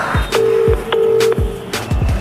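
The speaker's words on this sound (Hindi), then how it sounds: "मैं एक बार मम्मी को कॉल कर लेती हूँ यार" A phone dials out a call, a series of short electronic beeps and a sustained tone broken into segments, heard up close and fairly loud, with no voices.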